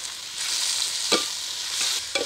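Onions sizzle in hot coconut oil in a pan for a soya chunks roast, a steady bright hiss with a couple of sharper stirring scrapes, close and alone.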